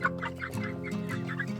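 Young chicks from a painted balloon rooster, nearly three months old, cluck nearby in a soft, continuous chatter of overlapping calls with a steady low hum underneath and no talking.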